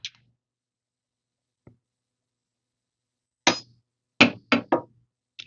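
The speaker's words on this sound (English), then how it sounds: "I touch it, hold steady, and a weld happens." A permanent jewelry welder fires its electrode arc to fuse a jewelry weld, giving a faint tick followed by four sharp, crisp snaps close by, the last three in quick succession with silence between them.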